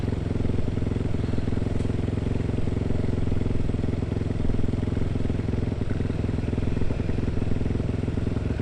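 A big motorcycle works slowly over narrow riverbed rocks, its engine droning steadily up close with occasional clattering knocks from the rocky ground and no talk.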